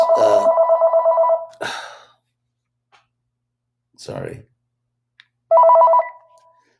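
Telephone ringing with a repeating electronic bell-like tone, loud and close, in two bursts separated by a short apology and rustling; a person speaks briefly between the rings.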